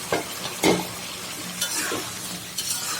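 Chicken pieces go into a pan of bottle gourd cooking, giving a few short stirring scrapes and shuffles over a low, steady frying hiss.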